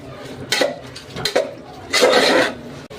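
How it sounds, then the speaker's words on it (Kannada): Pandan leaves frying in a pan with pudina paste for mint rice, stirred with a utensil: a couple of scrapes and clinks, then a louder, sustained sizzle-and-scrape burst, fairly close. "ಇವಾಗ ನಾನು ಪಂದನ್ ಎಲೆ ಹಾಕಿ ಫ್ರೈ ಮಾಡ್ಕೊತಾ ಇದ್ದೀನಿ."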